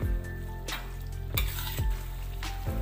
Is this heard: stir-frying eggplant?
yes